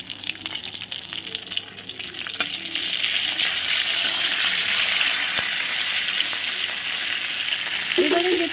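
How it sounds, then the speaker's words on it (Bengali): Spices tempering with curry leaves in hot oil give a steady, close sizzle that swells louder partway through, with no talking over it. "ফোড়নটা একটু ভাজা ভাজা হোক"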